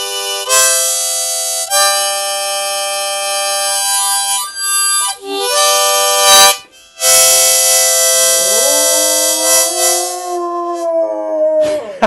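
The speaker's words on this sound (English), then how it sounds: "I want to see if I can get my dog to howl." A dog howls close by in long, drawn-out cries that hold, break off and return, then slide up and down in pitch near the end, with no talking.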